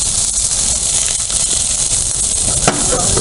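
Scallops, shrimp and other seafood sizzling on a Blackstone griddle, a steady, loud, close hiss of frying with occasional small pops and crackles throughout.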